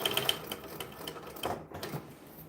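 A sewing machine stitches a bag in quick rattling bursts, its needle clattering rhythmically at close range and fairly quiet, with brief pauses between runs.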